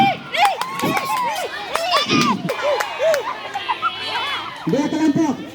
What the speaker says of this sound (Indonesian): Kalau dia berhasil, teriak-teriak dikit gitu.